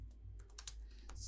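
Quick typing on a computer keyboard, a short run of close, crisp key clicks at an uneven pace, quiet and with no voices.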